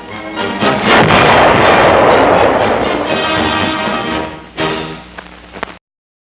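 A land mine detonates with a single heavy, loud blast that rolls on in a long rumbling roar before cutting off. It is set off against an invader as part of a defense demonstration.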